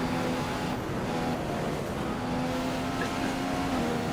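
Engine drone and rushing wind noise fill an F1 racing video game, a steady loud mechanical roar with sustained tonal hum throughout and no talking.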